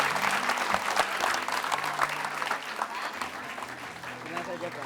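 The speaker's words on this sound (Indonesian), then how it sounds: "Kita kasih tepuk tangan sekali lagi yuk." Studio audience at an Indonesian comedy variety show clapping in a dense, lively burst that carries throughout, with a host's voice talking faintly underneath.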